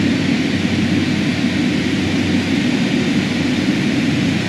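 Twin turboprop engines of a Carenado King Air B200 running at high idle in MSFS 2020 make a steady, loud, unbroken roar with a constant broadband hiss.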